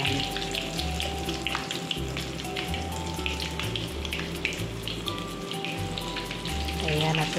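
Bread rolls with hotdogs and cheese fry in hot cooking oil, giving a steady, dense crackling sizzle with scattered pops and a low background hum that runs throughout.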